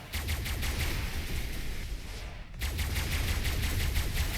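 Sustained automatic gunfire in the video game ARK Genesis 2, a dense continuous burst that briefly cuts out midway and then resumes at full loudness, with no talking.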